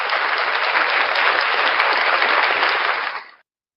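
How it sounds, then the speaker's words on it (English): A short burst of audience applause, dense and even clapping from a crowd for about three seconds before stopping abruptly. "round of applause for Blackheart 9."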